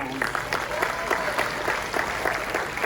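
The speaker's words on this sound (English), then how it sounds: "Let's give him a big round of applause." Comedy show audience breaks into a big round of applause for a volunteer called on stage, dense steady clapping with scattered sharp claps filling the room throughout.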